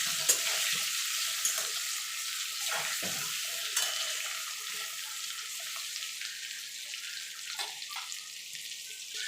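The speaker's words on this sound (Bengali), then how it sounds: "দিয়ে আলুটাকে আমি লাল লাল করে ভেজে তুলে নেব" Potatoes with turmeric powder sizzle and fry in a pan, a steady bright hiss with occasional stirring scrapes, close and alone without talk.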